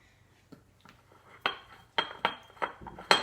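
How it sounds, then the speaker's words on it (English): A metal knife set down in a mixing bowl while making banana bread gives a string of sharp, close clinks and rattles, several distinct strikes with short ringing decays over a quiet background. "I'm just gonna set my knife in the bowl"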